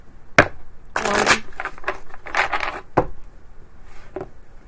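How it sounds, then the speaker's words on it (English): Tarot cards are shuffled in a few quick riffling bursts with short gaps between them, close and fairly loud, with no talking over them. "Couple quick shuffles."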